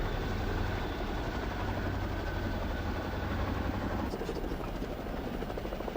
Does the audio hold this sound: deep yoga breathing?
no